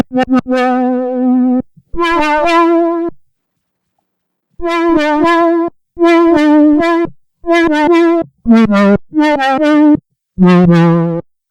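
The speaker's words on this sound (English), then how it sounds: "the other thing I hear on it is a little bit of ring modulation" A buzzy synthesizer lead plays short phrases of sustained notes with a metallic, clangy edge, separated by brief silences.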